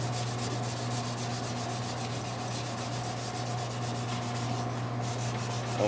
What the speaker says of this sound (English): And now I'm going to go over it with wet sandpaper.